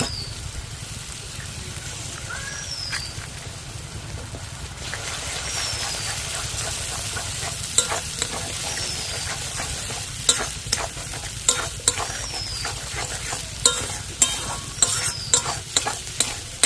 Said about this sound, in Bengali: ডিম দিয়ে ভালো করে ভেজে নিয়েছি